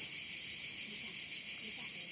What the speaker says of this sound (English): It was the sound of a cicada.